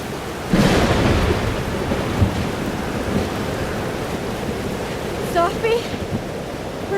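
Thunderstorm in the video game Life is Strange: Double Exposure, with steady heavy rain hissing throughout and a loud thunder crack near the start followed by rumbling, plus a few faint higher tones later.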